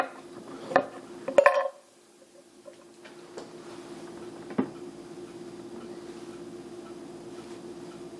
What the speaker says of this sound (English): And you want to slice a couple of hunks.